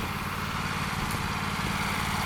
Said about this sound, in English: Husqvarna's running great too